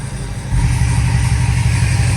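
A 2019 Corvette ZR1 fitted with new headers runs close by, a loud, deep, throaty engine rumble that steps up in volume after a moment and then holds steady.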